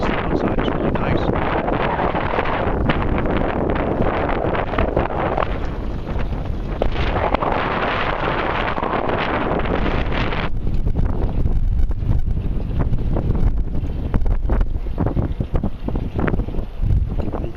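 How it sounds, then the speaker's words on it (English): Strong wind buffets the microphone outdoors near the construction of One World Trade Center on a windy day, a loud continuous rumbling roar that eases a little in the second half, with no clear talking. "Trying to keep my back towards the wind so it doesn't cause too much of a problem for you."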